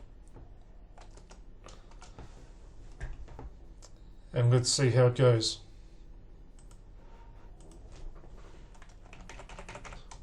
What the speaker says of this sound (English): Put some typing in.